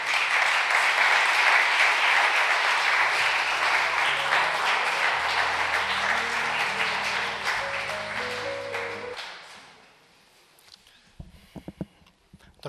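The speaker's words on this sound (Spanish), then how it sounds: "nos damos un aplauso" Audience at a poetry evening held by the Ateneo de Alcázar claps in sustained, loud applause while low piano-like notes play beneath, then the clapping fades out to a quiet room with a few faint knocks.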